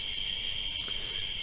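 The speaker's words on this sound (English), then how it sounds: "You can probably hear all the bugs out." Insects buzz in a steady, dense, high-pitched drone on a pitch-dark night by a fishing spot, continuous and even throughout, with no voices.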